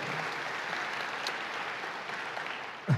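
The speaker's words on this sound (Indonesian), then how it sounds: "Boleh kasih tepuk tangan buat Paula" A church audience applauds for Paula, a steady wash of many hands clapping at moderate distance that holds evenly throughout, with a single low thump near the end.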